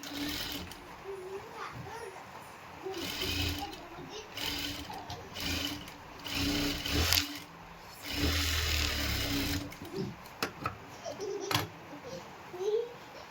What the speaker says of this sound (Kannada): ಹಾಗೆ ಇನ್ನೊಂದು ಸಲ ಸ್ಟಿಚ್ ಮಾಡ್ಕೋಬೇಕು